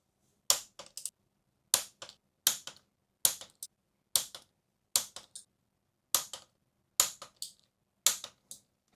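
Bolts on a crashed Yamaha R1 motorcycle being rebuilt are torqued to 10 newton meters, producing a regular series of about nine crisp, close ratcheting click bursts, each a quick double snap, separated by short silences.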